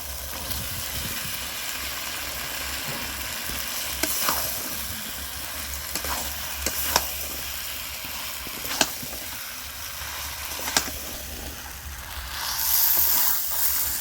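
Potatoes drop into spice masala frying in oil for a small potato curry. They set off a steady, even sizzle with occasional sharp clinks of a spoon or pan. The frying swells louder near the end.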